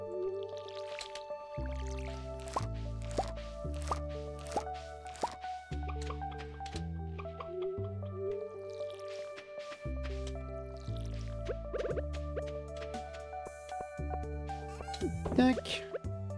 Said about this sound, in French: on va arroser nos plantes